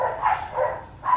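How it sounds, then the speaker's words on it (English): Dogs bark outdoors at the neighbor's dogs, three or four quick muffled woofs in a row, moderately loud and somewhat distant. "we just let them out and they're out there barking at our neighbor's dogs."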